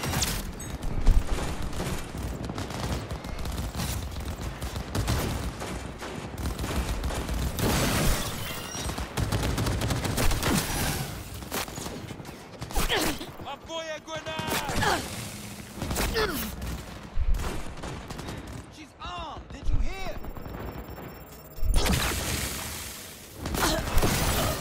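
Rifle fire in the video game Cyberpunk 2077, loud repeated volleys and bursts with mechanical clanks and whooshes, dense and continuous with short pauses, and a voice briefly heard in places.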